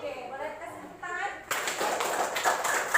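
A classroom of students breaks into applause, quick scattered clapping that begins suddenly after a teacher's speech and continues to the end, moderately loud.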